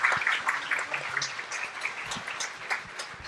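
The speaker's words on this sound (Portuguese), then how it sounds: "Uma salva de palmas" Audience applause at a 2018 schizophrenia awareness day debate, a steady mid-level patter of many hands clapping with no talking over it.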